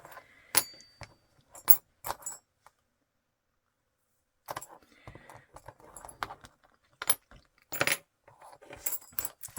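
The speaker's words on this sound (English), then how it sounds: "So I asked everybody to give me their spare keys." Spare office keys being handled, bursts of metallic jangling and clinking close by, broken by a short silent pause midway.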